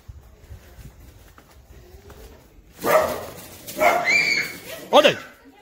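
A dog barking outdoors at a campsite near Sanremo, a few sharp close barks and yips in short bursts, with people talking around them.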